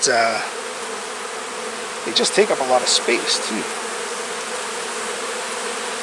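Honey bees from a strong backyard hive hum in a steady, close buzz that carries through the whole stretch, with someone talking briefly at the start and a few brief sharper buzzes from bees passing near.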